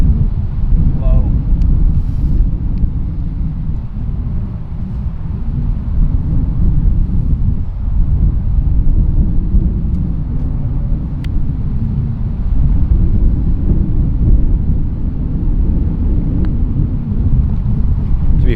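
Strong wind roars steadily across an open golf course, a dense low rumble buffeting the microphone for the whole stretch with no letup.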